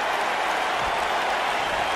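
A WWE 2K19 arena crowd roars and applauds in a steady, dense wash of noise, loud and continuous with no clear voices.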